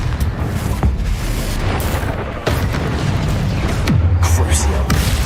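Confringo fire-blast spell explosions during a Hogwarts Legacy boss fight on PS5, heavy booms and bursts landing amid constant loud battle noise, with one sharp blast standing out midway.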